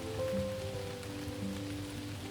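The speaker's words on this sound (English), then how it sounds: "the night alive with the muted patter of rain against stone and leaf" Rain patters against stone and leaves at night, a soft, even, continuous wash with no voices over it.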